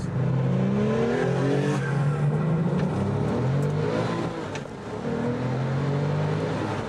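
A Porsche 911 Turbo accelerating hard, its engine note climbing in pitch through successive rising sweeps, loud and close and steady throughout.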